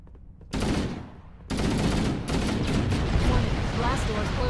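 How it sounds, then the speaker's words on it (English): Heavy gunfire in the video game Halo: Combat Evolved (MCC) comes as dense, booming bursts that start abruptly and continue almost without pause, loud and close, with game voices mixed underneath. "the vibrations of the controller make this gun feel like an absolute cannon, and it feels really good to shoot it."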